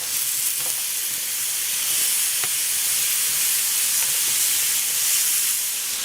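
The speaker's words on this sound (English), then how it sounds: "I'm going to add some frozen broccoli." Frozen broccoli sizzles and fries in a T-fal Viva eco-friendly non-stick pan with sauce, a steady close hiss of steam and spatter running throughout with an occasional stir.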